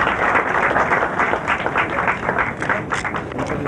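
An audience at a film silver jubilee celebration and muhurat event breaks into steady, dense applause. The many hands clap continuously for several seconds and the sound fills the hall.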